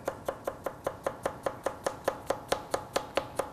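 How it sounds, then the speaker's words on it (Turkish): A kitchen knife slices carrots thinly on a cutting board, about seventeen crisp, evenly spaced chops in a quick steady rhythm, close and clear with nothing else heard. "İnce ince doğrayalım."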